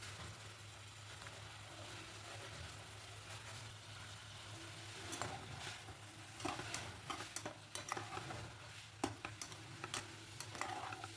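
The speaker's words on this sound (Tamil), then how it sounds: "எல்லாமே நல்லா வதங்கினதுக்கப்புறம் சிக்கன் சேர்த்து அதையுமே நல்லா வதக்கி விட்டுருங்க." Chicken sautés in oil in a pan for a pepper chicken dish, giving a quiet, steady sizzle with occasional soft stirring scrapes and clinks of a utensil against the pan.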